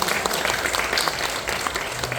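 Church congregation at a Korean worship service applauding for volunteer teachers, a steady dense wash of clapping that fills the short span at even loudness.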